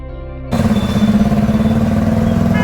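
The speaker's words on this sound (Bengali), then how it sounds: "তাই আমরা বাস স্ট্যান্ড অবধি যাচ্ছি বাইক নিয়ে" A motorcycle carries riders toward a bus stand, its engine kicking in after a brief low hum and holding a loud, close, steady drone with a slight pulsing rhythm throughout.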